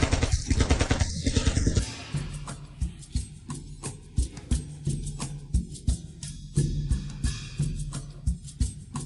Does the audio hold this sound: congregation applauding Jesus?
no